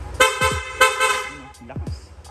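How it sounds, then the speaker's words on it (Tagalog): A loud aftermarket PIAA horn on a Yamaha Aerox motorcycle blares in several short bursts, with brief voices heard between and after the blasts. "Sir, pa-activate naman ang loud horn."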